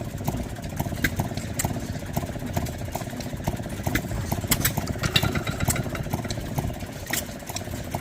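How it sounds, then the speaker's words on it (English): Antique Maytag engine on a brush cutter at a tractor show, chugging along in a steady uneven putter with sharp clicks and ticks over a low rumble, close by and fairly loud. "There's a brush cutter with a Maytag engine on it right there."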